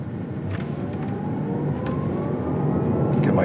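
A 2021 Porsche Taycan Turbo electric car accelerates hard with a steadily rising motor whine over rushing road and wind noise, close and growing louder throughout, with no talking.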